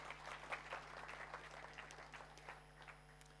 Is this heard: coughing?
no